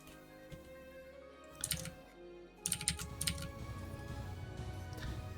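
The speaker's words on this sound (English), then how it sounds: "Can you hear me click my keyboard?" Clicks from a loud computer keyboard during typing, bursts of rapid close keystrokes separated by short pauses, then continuing in a busy stream over a faint electronic hum.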